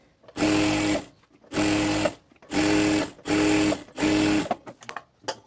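A sewing machine stitches salwar fabric in five loud, close bursts of about a second each, separated by short pauses, followed by a few soft clicks.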